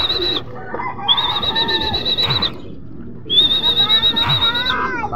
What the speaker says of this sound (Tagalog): Yan na siya itong mga kalapatid, oh.